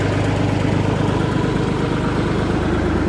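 Three-cylinder diesel engine of a 1974 O&K MH3 excavator running, a loud, close, steady idle with a low rhythmic throb throughout.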